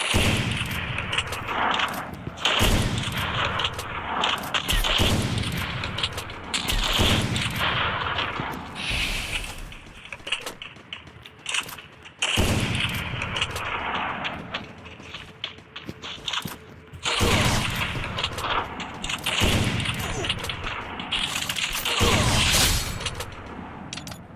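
Gunfire from a shooting video game, with loud bursts of shots repeating in clusters over a steady stream of game noise and no talk.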